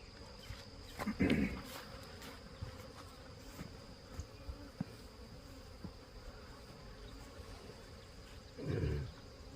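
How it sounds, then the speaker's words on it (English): A faint, continuous hum of many honeybees buzzing in a dense swarm in a three-frame mating nuc hive, with a couple of louder close passes and some brief knocks in the background. "A lot of bees in here."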